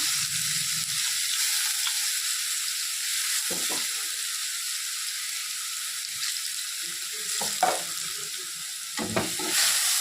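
Steady sizzling of onions sautéing in oil in a pan, with occasional stirring clatter and scraping; no talking.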